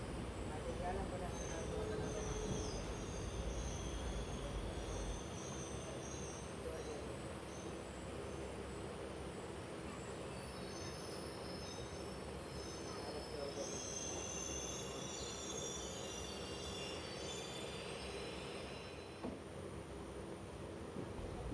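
A passenger train at a nearly deserted Indian railway station in the early morning hours, with long high-pitched wheel squeals over a steady rumble of rolling wagons, heard continuously for about twenty seconds.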